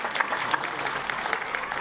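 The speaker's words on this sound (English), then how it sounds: "clap for yourself" An audience at the Indian Film Festival of Melbourne 2014 awards ceremony applauds in a thick, even patter of many hands, moderately loud and sustained through the short stretch.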